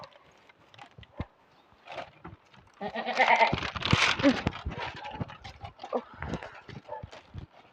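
Goats bleat several times in a short cluster, close by, amid light rustling and footsteps.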